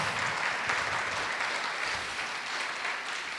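A church congregation applauds continuously, a dense, steady wash of many hands clapping at even volume throughout, with no speech over it.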